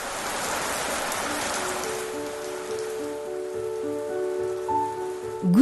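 Steady rain pours onto a surface in a close, even hiss, and soft sustained musical tones swell in and carry over it toward the end.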